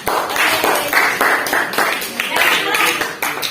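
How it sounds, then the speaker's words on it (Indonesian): A group of listeners claps in a steady, dense round of applause for a presenting group in a microteaching classroom, lasting throughout without pause. "Boleh tepuk tangannya buat kelompok apa nggak?"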